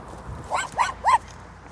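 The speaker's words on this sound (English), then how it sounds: "Here's some dogs." Several dogs outdoors near closed shops on Thanksgiving give three short, clear barks or yips in quick succession at moderate distance, over faint background noise.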